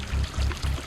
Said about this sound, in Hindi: पेटी से पानी आना शुरू होता है।